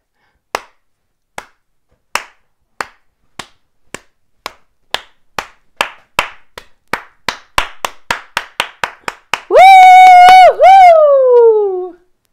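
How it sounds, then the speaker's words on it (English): One person does a slow clap: sharp, isolated claps that start well apart and gradually speed up into a quicker rhythm. The clapping is followed by a loud, sustained, whistle-like tone at the end. "I was gonna do a slow clap"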